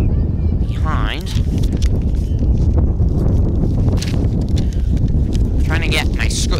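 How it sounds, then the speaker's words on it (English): Gusty wind buffets the microphone at a high broadcast position over a boys lacrosse championship game between Petaluma and Casa Grande, a loud rumbling roar under ongoing speech. "It's so windy up here."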